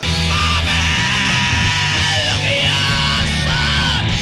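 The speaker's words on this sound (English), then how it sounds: "a man who can make an ear-shrieking scream sound beautiful" A loud, sustained yelling vocal scream from a grunge band's song over dense, distorted guitars and a steady low bass line for about four seconds.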